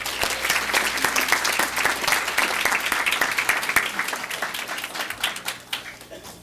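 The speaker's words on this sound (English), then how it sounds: "let's give these remarkable students one more big round of applause." An audience at a Board of Education meeting gives students a loud, sustained round of applause, a dense clapping wash that holds steady for several seconds and then thins out toward the end.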